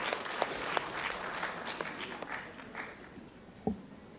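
Audience applause following a cultural performance at a governance forum event, a fairly faint, distant spread of many hands clapping steadily, with a few louder individual claps standing out and a brief knock near the end.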